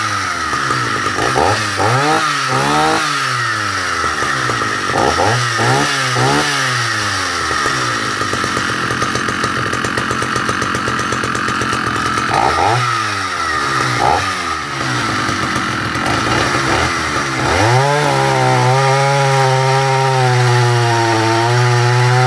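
Husqvarna L65 and McCulloch Pro 10-10 Automatic chainsaws running at full throttle and cutting wood, loud and close, with repeated revving bursts bogging into the cut and a long sustained cutting stretch at the end.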